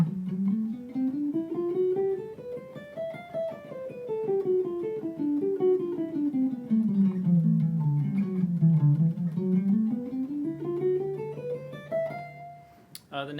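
On guitar, a bebop lick begins on the fifth of a G dominant seventh chord and runs in a flowing stream of single notes up and down the neck. It is played alone, close and clear, with no talk.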